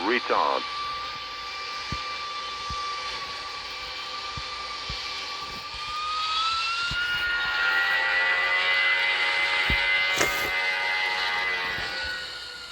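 An airliner landing in a Roblox flight game, a steady engine whine with rising tones over a low rumble, swelling louder in the second half as it touches down, with a voice speaking over it.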